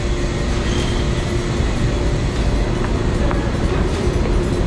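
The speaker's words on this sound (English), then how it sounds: "This is Times Square subway" A New York City subway train at Times Square station produces a loud, steady rolling rumble with faint squeals and rattles, close by and continuous throughout.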